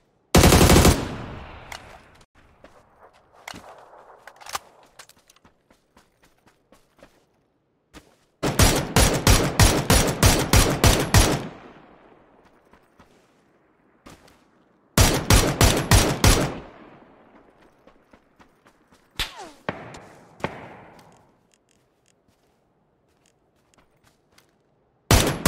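Automatic gunfire in a video game comes in several long, rapid, loud bursts separated by quieter stretches with scattered single shots and faint footsteps.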